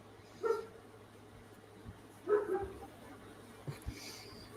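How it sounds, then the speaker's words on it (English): A single pet dog gives a few faint, separated barks in a quiet room, the sounds spaced out over a steady low hum. "Is that your doggos, Robbie?"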